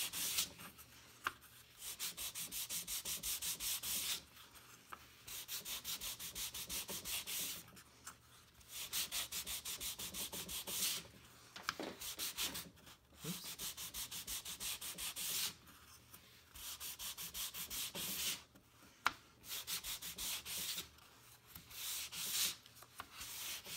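Sandpaper rubs close up and steadily against the tail of a 12-inch balsa wood glider. Long runs of back-and-forth scraping are broken by short pauses, with no voices.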